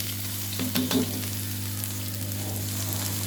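Chopped onions sizzling in half a cup of hot oil in a kadai, a steady close crackling fry over a low hum, with a few brief stirring scrapes early on and no voices.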